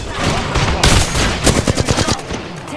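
Loud, dense gunfire in the battle game Apex Legends: rapid bursts and sharp individual shots crowd together close up, with a heavier volley near the middle and a steady clatter of shots afterward.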